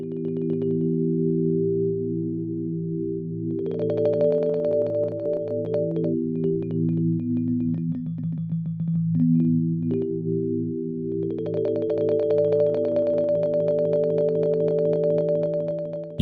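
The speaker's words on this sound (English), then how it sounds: "You'll begin to hear short grains of the sampled audio looping around." GrainFreeze granular effect looping short grains of frozen sampled audio, heard as steady layered sustained tones with shifting pitches and a brief dip midway, continuous and alone without talk.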